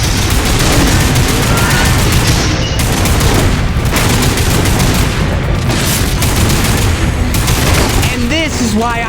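Gunfire in the video game Lost Planet 3, dense rapid bursts of shots and heavy booms running loud and continuous, with brief voice-like sounds near the end.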